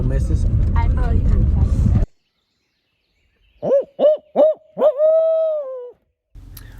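A man on a turkey hunt at a high spot on a family farm imitates an owl's hoot with four quick rising calls and a long drawn-out final hoot, after a moment of talking and a pause of silence.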